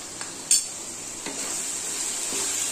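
Minced meat frying with onions and spices gives a steady, close sizzle and hiss, with a couple of soft clinks of a spoon against the pan.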